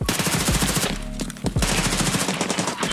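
Rapid automatic gunfire from a firefight between player parties in Escape from Tarkov on the Labs map: loud, dense bursts with a brief lull near the middle before sustained firing resumes.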